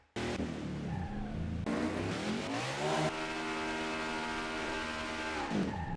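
A race car in the VRChat video game skids with a long, loud tire squeal over a steady engine drone, the pitch sliding down as the car scrubs speed, no voices present.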